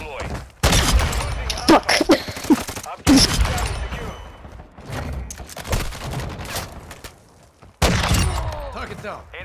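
Heavy gunfire in a military video game rattles in dense bursts of shots and impacts, loud and close, broken by short pauses, while a voice swears and radio-style game callouts speak over the fighting.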